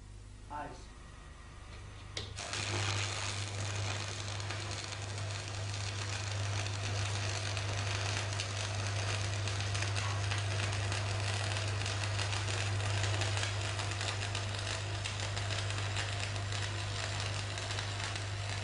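Stick electrode tack welding on a steel lap joint: a steady, loud arc crackle and buzz starts after a brief quiet moment and runs continuously with a constant electrical hum beneath it.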